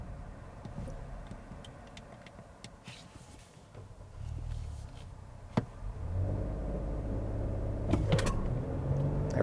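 A 2021 Hyundai Palisade Calligraphy three-row SUV with a torque converter automatic accelerates hard, its engine drone swelling from a quiet cabin hum to a steady louder roar over several seconds.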